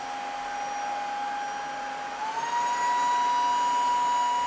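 A Dreame H11 Max wet and dry vacuum runs with a loud, steady motor whine that steps up in pitch and volume midway as it shifts from low to high suction, with no talking.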